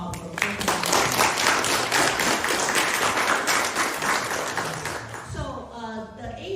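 Audience applause at an annual meeting of the International Leadership Foundation's Seattle chapter, a dense sustained wash of clapping that fades near the end as a voice begins speaking.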